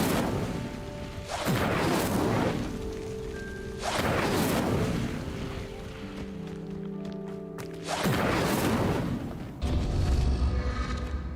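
Incendio fire spell in a wizarding game lighting pyres: three loud whooshing flare-ups of flame, each several seconds long with crackling tails, spaced evenly, followed by a low rumbling swell, no talk.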